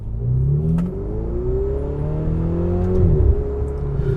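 A Ferrari 488 Spider's engine revs and pulls as the car drives, a steady loud mechanical drone with rising and falling pitch sweeps from gear changes and throttle, close and continuous with no talk.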